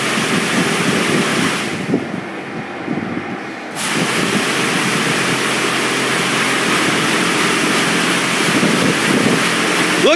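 Water jets spraying in an automatic Aqua Jet car wash, a loud continuous hiss of spray that drops out briefly near the start and returns, with faint voices underneath.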